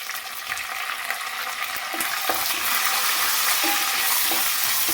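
Mint leaves are stirred into ginger-garlic paste frying in a pan, giving a steady bright sizzle close by, with soft scraping strokes and occasional clinks of the spoon as the sizzle grows a little louder.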